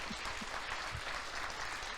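Congregation applause at a church service, a steady dense wash of clapping filling the space at moderate volume, with no speech over it.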